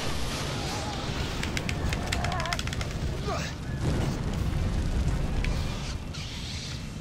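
Fire roars and crackles in Star Wars: The Force Unleashed, a dense continuous rumble with scattered bursts and booms, while voices talk over it.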